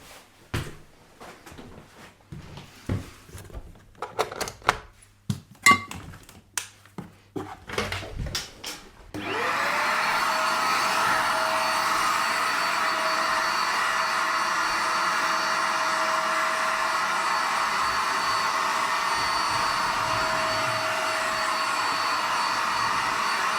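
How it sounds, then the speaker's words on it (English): Vacuum cleaner hoovering up in a workshop during a mitre saw stand build. A few scattered knocks and clatters come first, then the motor switches on and runs as a loud, steady whooshing drone with a faint whine through the rest of the clip. "Oh no, I'll hoover now."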